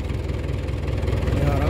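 A 1972 International 276 tractor, made in England, idles steadily with a low, even engine rumble that holds constant and close throughout, with no talk over it.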